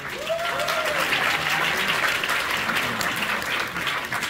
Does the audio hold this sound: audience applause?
yes